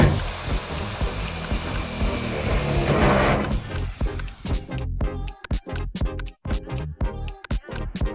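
A power drill bores holes while fitting a fake Subaru STI spoiler: a steady motor whine at first, then choppy stop-start bursts of drilling, close and fairly loud.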